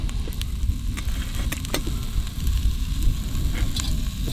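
Bread frying on a camp stove outdoors, a steady dense sizzle with a low crackling rumble throughout and a few sharp pops and clicks, close and fairly loud, with no talk.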